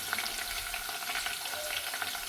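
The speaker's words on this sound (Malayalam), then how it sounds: "ഉള്ളി ഒന്ന് മൂത്ത് വന്നെങ്കിൽ ഒരു 2-3 മുളക് ഇട്ടിട്ട് ഒന്ന് മൂത്ത് വെക്കാം" Onions and chilies fry in hot oil in a pan for a white mutton stew, giving a steady close sizzle with light crackles throughout.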